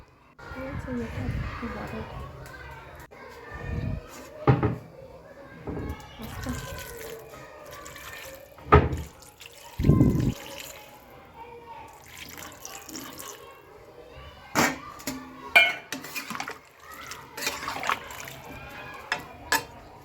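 Warm water poured over cut vegetables for shukto, followed by stirring, with intermittent splashes, pours and clinks of utensils against the pot, close and moderately loud, interspersed with someone talking.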